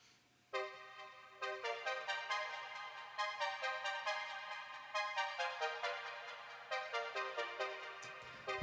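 A string-like synth melody on a Korg Poly 6 plays a bright, rhythmic line of repeated plucked notes with a steady pulse, clear and alone, fading out at the end.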